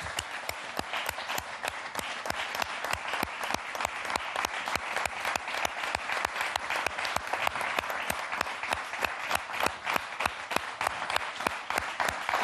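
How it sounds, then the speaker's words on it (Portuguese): A television studio audience on a Portuguese afternoon show gives sustained, even applause, a loud wash of many clapping hands that holds steady for over twelve seconds without a break. "Um grande aplauso para Jorge Costa."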